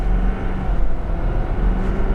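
A tuned 2020 Power Stroke diesel pickup truck accelerating hard on a back road, its steady, loud engine roar and drivetrain drone heard from inside the cab, with no talking.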